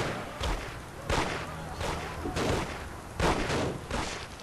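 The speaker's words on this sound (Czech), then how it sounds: "No jo, někdo tady střílí po mně." Bursts of gunfire from the Mafia HD video game, with several loud, sharp volleys spaced about a second apart over continuous background noise.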